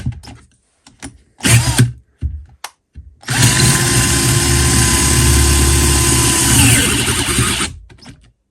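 A Parkside 12V cordless angle drill bores into wood with an 8 mm Parkside Performance bit, giving a few short bursts and then a loud, steady whine lasting several seconds before cutting out.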